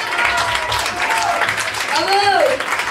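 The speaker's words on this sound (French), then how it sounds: "on peut l'applaudir bien fort" An audience at an anniversary stage show applauds a performer, clapping spread across the crowd under a voice speaking over it, with a few voiced shouts rising above the applause near the end.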